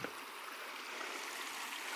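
Water trickles and seeps into the ground along a ridge, a faint, steady wash of running water that holds unbroken with no voices over it.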